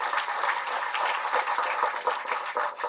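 An audience applauds at a film trailer launch event, a steady, dense wash of clapping from many hands that holds evenly for a few seconds with no voices on top.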